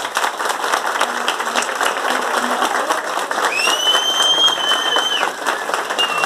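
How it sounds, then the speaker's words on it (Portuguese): Guests at a wedding ceremony give the couple sustained applause, an even wash of many hands clapping at moderate distance, with a brief high whistle-like tone partway through. "Então mais palmas para eles aí"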